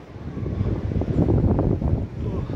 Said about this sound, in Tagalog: hangin habang bagyo